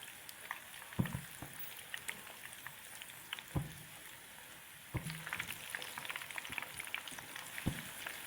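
Chicken veg sticks fry in hot oil, giving a soft, steady sizzle dotted with sharp little pops and crackles throughout.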